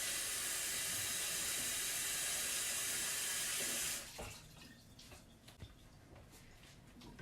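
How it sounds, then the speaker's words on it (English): Tap water runs steadily as hands are rinsed at a kitchen sink after breading eggplant, a strong broadband rush for four seconds that then cuts to a quieter dripping, splashing tail. "Now let me just rinse my hands real quick."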